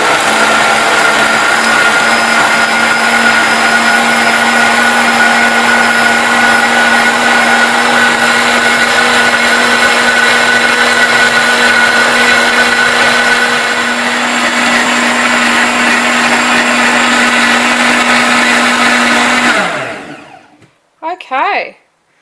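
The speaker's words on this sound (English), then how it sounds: "Okay, well the blender has been blending for 5 minutes." An Optimum 9200 blender runs continuously on vegan corn chowder, a loud, steady motor whir with a constant hum that holds for nearly twenty seconds before cutting off, followed by a couple of brief knocks.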